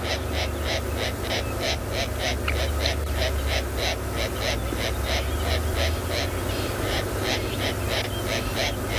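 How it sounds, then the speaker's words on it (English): A dense, busy chorus of morning bird calls in South Africa repeats in quick, steady bursts, layered over a constant low rumble with no pauses. "you can hear it's a very, very active morning for birds this morning."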